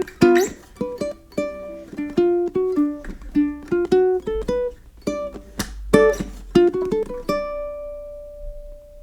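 Solo blues ukulele intro mixing single-note licks with strummed chords, bright plucked notes in a lively rhythm over four bars, close and unaccompanied, ending on a sustained ringing note.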